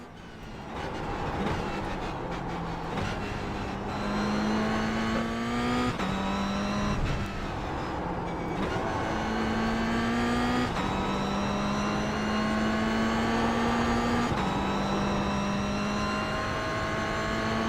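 A race car engine in a racing video game, loud and close, holding steady tones that climb with each gear and drop sharply at every shift, repeating through continuous acceleration with no voices.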